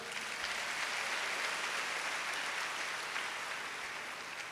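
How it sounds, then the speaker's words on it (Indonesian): A church congregation applauds during a worship service, a dense, continuous crowd clapping at even loudness with no voices on top. "Tepuk tangan yang meriah."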